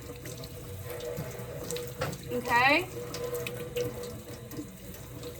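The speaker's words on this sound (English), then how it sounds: "Then you come and rinse, facing downward." A tap runs into a sink as hands are rinsed facing downward during a handwashing demonstration, a steady moderate water stream with a brief louder splash midway and a voice speaking briefly over it.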